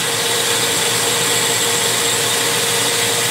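A rotary tool with a 50 grit abrasive grinds carbon from the exhaust port of a ported engine cylinder, a loud, steady, high-pitched whir that runs continuously without pause or speech.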